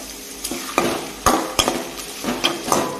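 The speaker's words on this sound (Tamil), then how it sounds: "இது நல்லா வதங்கட்டும்." Ginger and rava kichadi ingredients sautéing in oil, a loud close sizzle punctuated by sharp, irregular ladle taps and scrapes on the pan, about a dozen clinks across the stretch.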